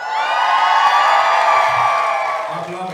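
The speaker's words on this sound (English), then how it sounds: "this lot are going to give you a massive cheer" A big crowd at the Megacon Manchester 2024 masquerade breaks into a loud, sustained cheer with whoops and shouts that swells and holds for about three seconds before easing off slightly.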